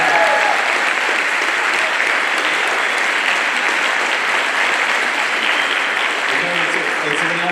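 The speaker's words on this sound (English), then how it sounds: "we can give a round of applause to all our hard-working seniors" Sustained, loud audience applause for graduating seniors at a scholarship night, dense steady clapping filling the whole stretch with no break.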